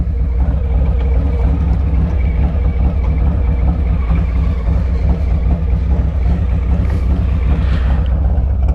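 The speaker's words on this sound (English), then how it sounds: "Let's let it sit here and idle for a minute" A 2025 Harley-Davidson Street Glide Ultra fitted with a Zipper's performance upgrade idles nearby with a loud, deep, steady rumbling throb that stays constant throughout without voices.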